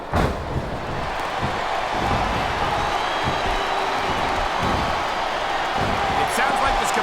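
A capacity arena crowd in the WWE SmackDown vs. Raw 2007 video game, at a Jillian Hall versus Melina wrestling match, keeps up a continuous roar with occasional sharp thuds, while commentators talk over it.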